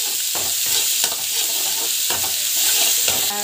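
Onions and curry leaves fry in a pan, a loud, close, continuous sizzle broken by periodic scraping stirs.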